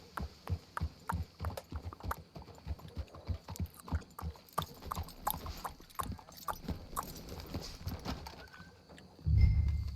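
Horse hooves clip-clop steadily in a Wild West video game, a brisk rhythmic trot of many close hoofbeats, with a heavier low thump near the end.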